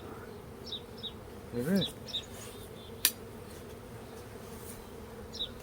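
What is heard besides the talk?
honey bees buzzing around a beehive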